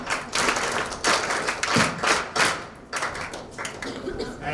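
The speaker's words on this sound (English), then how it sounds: "Okay, clap for them." Government school children clap together in a classroom, producing several loud, uneven bursts of hand claps separated by short pauses, with voices heard in between.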